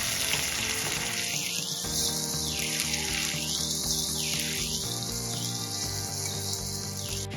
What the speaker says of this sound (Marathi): इथे आपल्याला टोमॅटो पण छान मेल्ट होईपर्यंत परतून घ्यायचे आहे